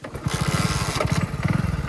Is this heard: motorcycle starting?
yes